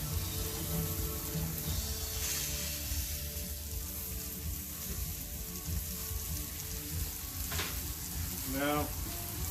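Tomatoes sizzle steadily on a Camp Chef Explorer cast iron griddle outdoors, a dense, even hiss close by, with a couple of brief scraping touches near the end.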